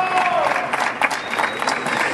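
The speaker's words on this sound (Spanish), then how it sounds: "Un fuerte aplauso para ellos." Audience applause at a Forza Motorsport tournament award ceremony, a dense, steady burst of clapping from a crowd across the whole short stretch, with a faint voice over it.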